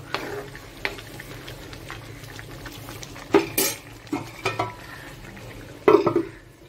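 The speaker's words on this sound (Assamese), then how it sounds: "চাই লওঁ বঢ়িয়াকৈ উতলি গ'ল" Tea boils in a pot, a faint bubbling backdrop broken by a few sharp clinks of utensils and pot, with no one speaking.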